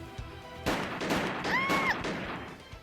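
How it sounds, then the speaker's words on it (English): Gunfire in a narrow corridor from the video game Piofiore: Fated Memories, a burst of several sharp shots with a ringing ricochet-like whine in the middle, loud and close, with game music underneath. "evading gunfire in a narrow corridor had its limits"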